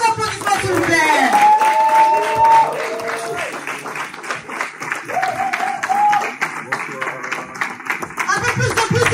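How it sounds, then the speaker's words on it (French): A crowd applauds to welcome Jonathan Gambela at a Paris press conference, sustained close clapping with some laughter and cheering voices mixed in, and a voice speaking over the applause near the start. "j'aimerais qu'on fasse un max de bruit, s'il vous plaît, pour accueillir, sous vos applaudissements, Monsieur Jonathan Gambela"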